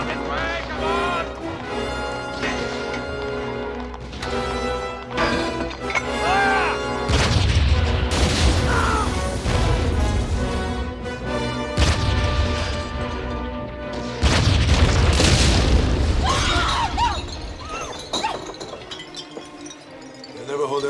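A battlefield artillery barrage of repeated heavy booms and crashing blasts rolls on continuously, while people shout over the din.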